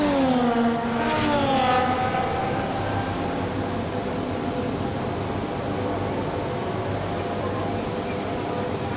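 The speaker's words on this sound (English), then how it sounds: "we've got a lot of wheel spin off the line" F1 24 race cars launch off the grid at the Brazil sprint race, with loud engines roaring and revving upward in pitch through heavy wheel spin, then settling into a dense, sustained engine drone.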